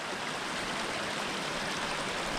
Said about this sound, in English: I'm wondering if it flows into Talladega Creek.